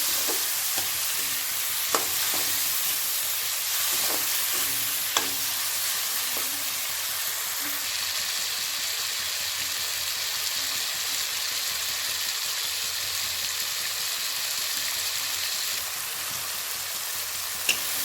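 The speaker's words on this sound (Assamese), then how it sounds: "এনেদৰে লৰাই 5 মিনিটমান সময় ভাজি ল'ম, বিলাহীখিনি গলি যোৱালৈকে।" Tomatoes stirred and frying in a pan with salt and turmeric for a fish curry, giving a steady broad sizzle with occasional scraping clicks of the spoon throughout, close and moderately loud, no talking.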